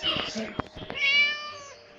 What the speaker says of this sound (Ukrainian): Котик.